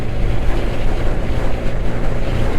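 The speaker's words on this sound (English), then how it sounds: "we're being battered by the wind now. Side wind is high" Strong side wind batters the microphone of a 125 cc motorcycle riding along a road, a loud, continuous roar and rumble with constant buffeting and no talk.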